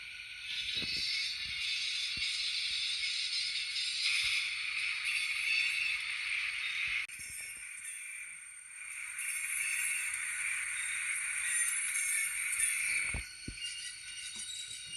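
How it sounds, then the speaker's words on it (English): A Scaletrains Southern 3221 SD40-2 high hood model locomotive runs in reverse, giving a steady, quiet, high hissing whine with a few faint clicks and rattles along the track. "Now we're going to go in reverse. Okay, let's run the locomotive off the table."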